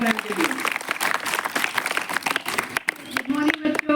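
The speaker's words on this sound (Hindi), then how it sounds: "जरा जोरदार तालियां मैम के लिए।" Students and staff at a school Teacher's Day celebration clap for a teacher, an uneven burst of applause with individual sharp claps standing out, accompanied by voices and a few tonal sounds around it.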